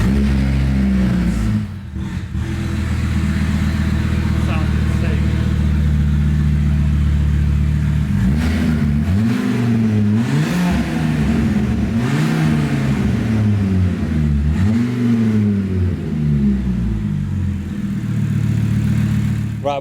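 An Audi RS engine swapped into a VW Caddy, with decat pipes and an airbox fitted, revs hard in a sustained loud run of rising and falling sweeps, close by and with no one speaking.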